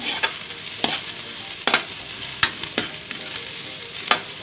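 Miso being sautéed with onion in a pan for sinigang sa miso, with a soft sizzle under a series of sharp spatula scrapes and taps at irregular intervals.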